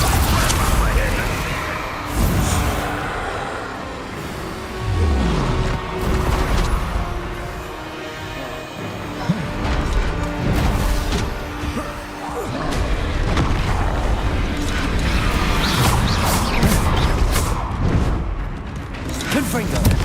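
Bombarda spell explosions go off in Hogwarts Legacy, with repeated booms, crashes and thuds across a dense, busy combat mix while a voice talks over much of it.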